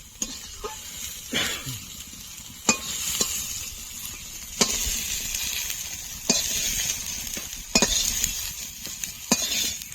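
Soyabean chunks fry in a pan with a constant low sizzle. A utensil stirs them every second or two, each stroke adding a sharp scrape and a light clink against the pan.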